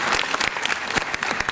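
Dense, steady audience applause fills the hall at a Hindi-language book release ceremony, with no voices over the clapping.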